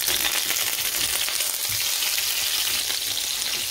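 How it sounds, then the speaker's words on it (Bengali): Eggplant pieces coated in salt and turmeric fry in hot oil in a wok, giving a loud, steady, dense sizzle with faint crackles throughout and no talking. "সবগুলো বেগুন ঢেলে দেওয়ার পর আমি এখন কয়েক মিনিট বেগুনগুলোকে ভেজে নেব ভালো মতো"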